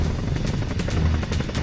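Indian Air Force Chinook helicopter at a 14,000-foot advanced landing ground near the China border in freezing winter, its rotor thudding in a loud, steady rhythmic beat with dense engine roar throughout.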